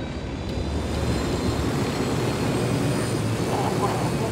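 Engine of a cargo plane in Ghost Recon Wildlands keeps up a steady, broad roar for the full length, loud and unbroken, with no other sounds rising above it.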